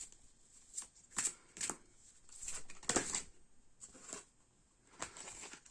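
Playing cards shuffled by hand for a tarot-style card reading, several crisp riffling bursts spaced irregularly, close and fairly quiet, no voice.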